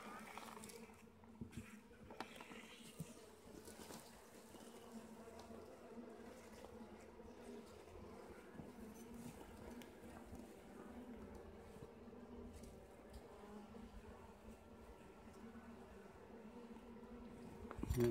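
Honeybees in an opened beehive in cold weather make a steady, close droning hum that holds throughout, with a faint human murmur in the background at moments.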